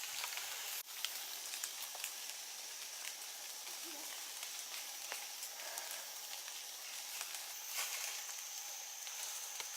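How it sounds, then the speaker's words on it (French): Light rain falls outdoors in a forest in New Caledonia, a steady soft hiss of drops pattering on leaves and ground, with a few clearer drips and no voices. "ah, cette petite pluie est rafraîchissante."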